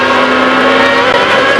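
Formula 1 race cars from 1996 overtaking on track, a loud continuous high-revving engine whine with a steady pitched tone, close and sustained, likely under broadcast commentary.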